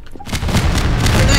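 Grenade explosions in Garry's Mod go off in rapid succession, with several loud overlapping booms packed into about a second and a half.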